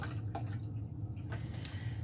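Spring water poured into a measuring cup, a steady soft splashing stream with a low hum running underneath, no voices.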